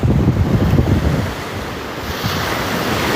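Waves roll and wash onto the shore with steady surf noise, heavy wind buffeting the microphone throughout, no voices.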